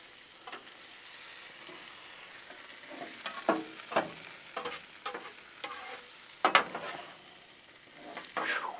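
Shrimp, sausage and jalapeños sizzle on a Blackstone griddle while being mixed, a soft steady fry broken by repeated scraping spatula strokes that grow busier and louder toward the end, no talking.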